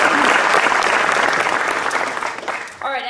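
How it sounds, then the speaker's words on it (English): An audience at a women's sports awards event claps and cheers loudly in a dense burst that fades, then a voice begins speaking. "Yeah, you can cheer for that."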